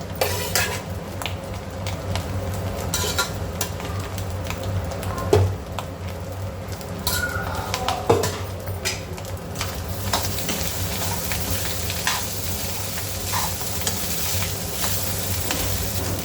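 Cooled cooked rice being stirred and fried in a pan for egg fried rice, with utensils scraping and clinking against the pan over a steady close sizzle.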